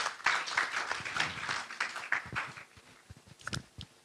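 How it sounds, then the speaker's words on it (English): Applause for a speaker at the ISCTRC general conference, a session in 2023, with a dense spread of hand claps that is loud at first and thins out into a few scattered claps near the end. "Another round of applause for our speaker, Kuruma Asuma."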